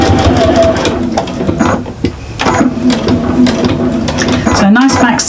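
Sewing machine stitching through foam on a bag with a lengthened stitch, a fast continuous mechanical whir and rattle of the needle, close and loud, with brief pauses and fabric shuffling.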